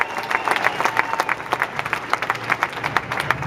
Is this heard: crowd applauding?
yes